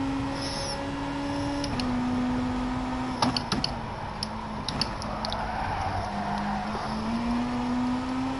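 A race car engine in a racing video game holds a steady, mid-pitched drone that steps up and down between gears, with faint ticking clicks scattered over the top, all at a low, even level.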